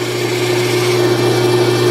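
A small woodturning tool shaping a wooden chess pawn on a lathe, a steady loud motor hum with a continuous scraping cut running throughout, no talking.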